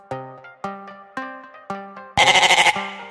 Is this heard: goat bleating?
yes